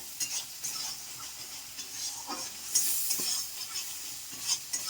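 A spoon scrapes and stirs through sizzling masala for a potato paneer curry in a pan, with soft rhythmic scraping over a steady frying hiss.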